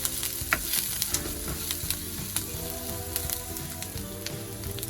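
Onions browning in a pan for okra masala give a continuous, close sizzle with frequent small pops and crackles and occasional stirring, with no talking.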